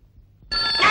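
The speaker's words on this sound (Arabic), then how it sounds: "خلي التليفون يزعجك برنينو" A telephone bell starts ringing abruptly partway through, loud and bright, following a quiet low rumble; no one speaks over it.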